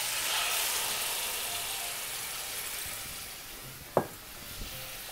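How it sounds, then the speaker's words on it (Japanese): Marinated fresh tomatoes hitting a frying pan of hot garlic-basil oil for pasta, a loud broadband sizzle that slowly eases, with a sharp clack of utensil or pan near the end. "先ほどマリネしたトマトを入れていきます。"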